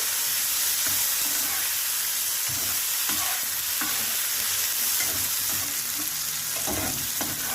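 Red ripe tomatoes frying with onions in a pan for a restaurant-style egg curry, a loud, dense, continuous sizzle with occasional stirring knocks close by.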